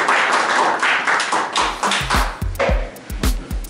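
Seminar audience clapping at a meetup, a burst of mixed applause that thins out into sparse, distinct individual claps toward the end, close and fairly loud.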